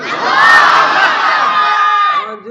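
A crowd of unmarried men at an outdoor Bengali religious sermon gathering roars a loud sustained shout together, the massed voices swelling and holding for about two seconds before trailing off.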